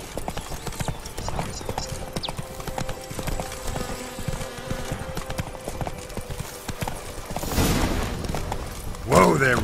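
Hooves of the horse Roach clip-clop steadily in The Witcher 3, a close rhythmic trot with brief whinny-like bursts and louder movement toward the end, under game voices talking.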